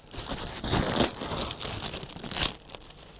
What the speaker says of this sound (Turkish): Bir, bir poşet daha saman açacağım.